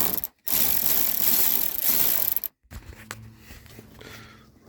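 A ratchet tightening screws on a blend door or recirculation actuator in a 2007–2013 Chevrolet Silverado or GMC Sierra, with rapid close clicking bursts broken by brief pauses, then lighter scattered mechanical clicks.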